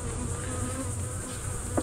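Honey bees buzzing around frames from a hive, a steady close droning hum with no talk.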